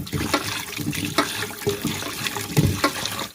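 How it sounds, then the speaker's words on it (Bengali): Koi fish being rinsed in a basin of water, with continuous splashing, sloshing and trickling close by and a few sharper splashes as the fish are turned and washed; no talking. "মাছগুলো ধোয়া হয়ে গেছে"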